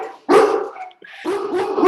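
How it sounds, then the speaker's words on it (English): A big dog barking, two deep, loud, close barks separated by a short pause, each with a rough, full-bodied tone. "A big dog."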